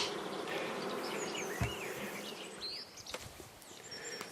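Honey bees buzz steadily around a beehive near queen-cell brood frames, a dense continuous drone of many insects with occasional closer passes, faint birdsong in the background.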